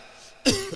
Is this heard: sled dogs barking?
no